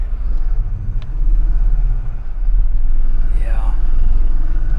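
A worn car's engine idles with a rough, uneven rumble close by while people talk over it, with a brief squeal near the end.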